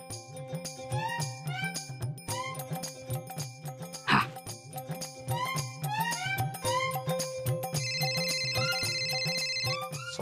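A mobile phone plays a looping melodic ringtone while a call is placed to a brother, steady and close, with one brief clatter midway and no talking.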